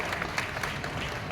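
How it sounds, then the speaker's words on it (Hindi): Steady audience applause at a poetry recital, a continuous patter of many hands clapping at moderate distance with no break. "जोरदार तालियां होनी चाहिए, जोरदार तालियां होनी चाहिए।"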